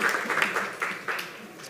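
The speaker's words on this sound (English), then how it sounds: "round of applause, please, for Juntis" Scattered applause from a startup event audience, a few uneven bursts of clapping that rise and fade over under two seconds, fairly close and moderately loud.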